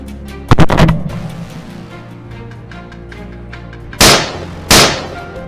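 Gunshots fired while hunting wild boar in an open crop field: one sharp report near the start, then two more loud shots close together near the end, each with a short decaying tail, and no talk.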